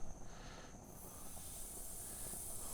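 Salisbury steak patties sizzle on a Weber Spirit gas grill after a quick spray of high-temperature pan oil, giving off a steady, soft hiss that continues throughout without any other sound.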